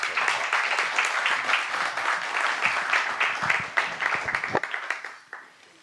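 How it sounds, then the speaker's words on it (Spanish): An audience at a conference on the philosophy of aikido applauds to welcome the speaker Gabriel; a full, crisp round of clapping that thins out and fades with a few last claps near the end. "con un aplauso le damos la bienvenida a Gabriel"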